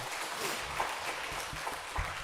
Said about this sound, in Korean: 이 자리를 빌어 우리 박수로 한번 격려했으면 좋겠습니다